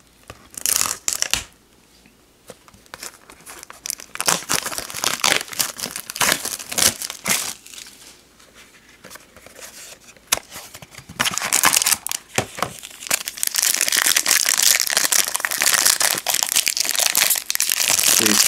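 Foil wrappers of Yu-Gi-Oh Gold Series 3 card packs crinkle and tear up close, with sharp rips and rustling crumples coming in irregular bursts and growing busier and louder toward the end.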